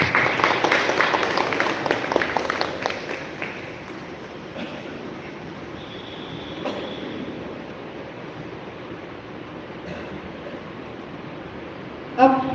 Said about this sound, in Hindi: आइए हम सभी तालियों के साथ उनका स्वागत करें।